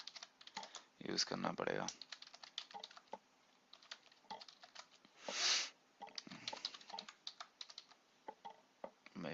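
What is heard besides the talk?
typing code on a computer keyboard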